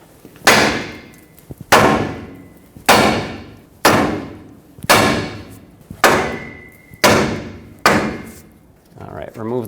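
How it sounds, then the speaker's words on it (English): Seven loud, evenly spaced hammer blows strike a tie rod on a 2011-2016 Ford F-350 to knock it free from its stud, each a sharp metallic bang with a ringing decay, heard close and alone. "now hammer right here, and that should break this tie rod free from the stud"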